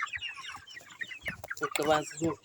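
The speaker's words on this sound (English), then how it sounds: "they are broiler chicken, guys" Broiler chickens cluck and squawk up close in a rapid, busy jumble, with a voice speaking faintly underneath.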